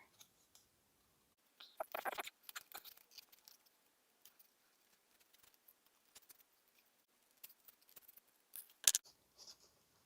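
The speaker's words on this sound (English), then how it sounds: "So I need to cut around it a little bit more." Scissors snip paper around a drawn figure in short, quiet bursts of cutting with pauses between them, close up and without any talking.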